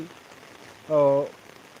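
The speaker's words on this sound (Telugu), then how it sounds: "ప్రస్తుతానికైతే మనకు కురుస్తున్న వర్షం నార్మల్ వర్షం ఇది" Steady rain falling on Velichala village, a soft, even patter throughout, with a short voice sounding briefly in the middle.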